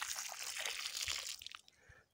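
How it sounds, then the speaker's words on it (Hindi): Water poured from a container onto kiwi plants grown from cuttings, a steady close splashing and trickling that thins into scattered drips near the end. "इसमें पानी डाल देते हैं और इसमें तकरीबन चार पाँच लीटर एक पौधे को पानी देना होता है"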